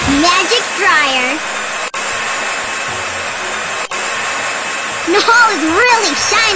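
In the Shimmer and Shine video game, a magic hair dryer roars continuously and loudly throughout, with a voice chattering over the top at the start and end.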